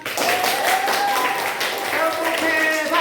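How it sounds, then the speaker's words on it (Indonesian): Classroom students break into applause, a dense wash of clapping mixed with children's voices for a few seconds. "Tepuk tangan."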